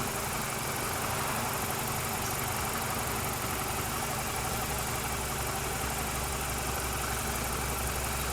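A BMW 320 engine idling in a garage during a head gasket sealant repair, a steady close mechanical hum with a low rhythmic throb and no voices.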